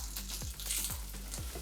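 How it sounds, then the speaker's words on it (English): Curry leaves and thyme leaves sizzling in a pan for an octopus curry, a faint steady frying hiss with a few dull low thumps of stirring, close and without talk. "are going to add the curry leaves and the thyme leaves and cook those down for a bit"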